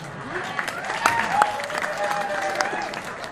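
Students and lecturers clap at a Balinese comedy performance of the Calonarang dance-drama, a moderate steady patter of applause with a few scattered louder claps and faint voices mixed underneath.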